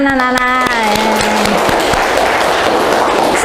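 Schoolchildren applauding in a classroom: a teacher's voice speaks at first, then a burst of loud, dense clapping from the class fills the rest.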